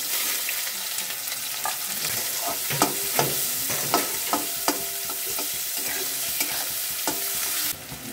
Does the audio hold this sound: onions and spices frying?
yes